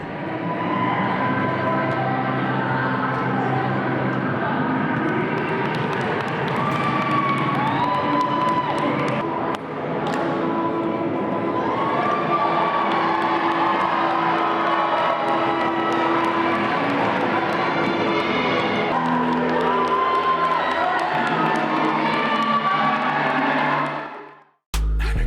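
Festive high school cheer team from Del Campo cheering and shouting as a crowd, a steady loud mass of young voices held for about twenty-four seconds before cutting off abruptly.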